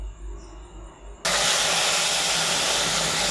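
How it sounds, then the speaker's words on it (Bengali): Tomato paste hits hot mustard oil in a kadai while making chana masala, setting off a sudden loud, close burst of sizzling that starts partway through and holds steady to the end, after a quieter hum. "এবার এটাতে আমার টমেটো পেস্টটা দেবো"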